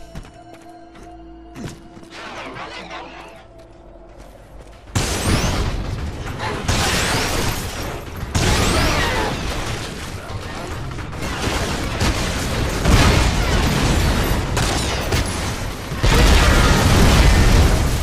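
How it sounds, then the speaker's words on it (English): Loud, continuous barrage of booming explosions in the game Hard Reset with rumbling thuds, starting after a quieter stretch of game sounds and building near the end. "Oh, that's lots of explosions."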